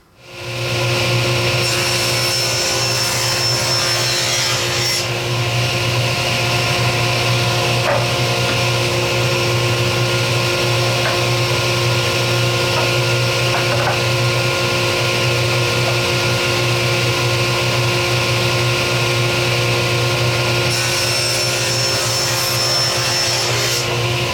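A steady, loud power saw drone runs nearly unbroken while an end grain wooden cutting board is ripped into 1.5 inch wide strips, with a constant tonal whine throughout.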